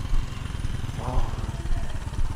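Motorcycle engine in Jakhama bazaar, Kohima, Nagaland, rumbling steadily with a low throbbing chug close by, while a voice speaks briefly over it.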